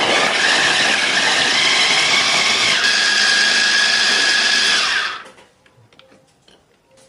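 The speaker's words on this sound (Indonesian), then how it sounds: "Untuk bawang merah dan juga cabenya kita giling dulu." A blender grinds shallots and chili peppers with a steady, loud, high-pitched whirring motor drone for about five seconds, then cuts off abruptly into near silence.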